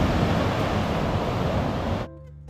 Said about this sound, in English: surfing waves